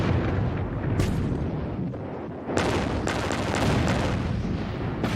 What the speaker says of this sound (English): The 7-mile-long battle line of the British Grand Fleet unleashes the most powerful salvo in the history of naval warfare.